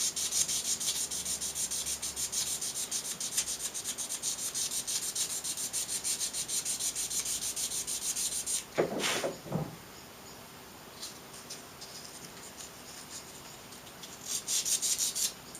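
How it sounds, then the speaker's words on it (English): 240-grit sandpaper smoothing the wooden edges of a handmade ukulele bridge, a continuous close rasping rub for several seconds, then a pause and a few short scrubbing strokes. "I'm probably just gonna go with like from the 240, just to smooth off these edges that I've made."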